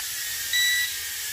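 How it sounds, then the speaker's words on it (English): A single short, high electronic beep from a micro drone's transmitter rises over a steady hissing whine from the drone's nearby motor. "The transmitter does beep."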